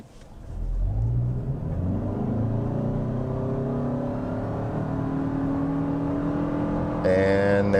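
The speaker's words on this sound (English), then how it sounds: "we're gonna floor it again" A 2025 Toyota Camry SE hybrid is floored from low speed in normal mode, its engine drone climbing steadily in pitch and holding loud and close throughout, heard from inside the cabin, with a brief higher tonal chime near the end.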